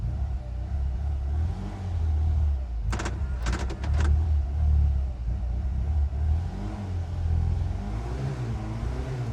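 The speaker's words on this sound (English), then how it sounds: "Didn't really want to rev it up that much from cold" A Ford Escort XR3i cabriolet engine, revved from cold, idles and rises in revs with a low, uneven rumble, and a few brief sharp clicks partway through.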